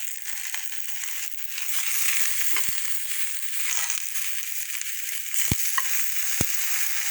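Okra (bendakaya) fries in a pan for a Telllugu-style okra chutney, a steady close sizzle with soft crackles and a few sharp scraping stirs, no talk over it.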